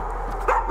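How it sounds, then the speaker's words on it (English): Dog whimpering and crying in the Layers of Fear horror video game, a short plaintive whine rising twice over a low steady background hum, fairly close and clear. "I hate the sound of crying dog."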